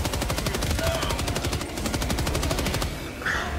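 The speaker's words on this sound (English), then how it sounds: "Oh, wait a minute, I have a minigun." A minigun blazing in Helldivers 2, a rapid continuous stream of evenly spaced shots hammering for nearly three seconds, loud and close, then cutting off into a short quieter tail.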